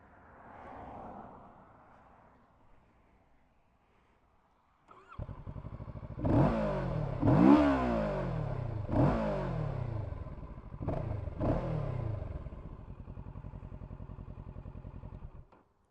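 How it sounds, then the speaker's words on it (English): A Kawasaki Z650 motorcycle with an aftermarket exhaust starts up and revs in several sharp, loud bursts close by, settling between blips into a steady idle, after a quiet stretch with faint talk at the start. "It really isn't a bad sounding exhaust, to be honest."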